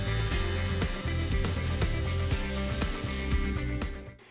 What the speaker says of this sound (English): better switch on the welder first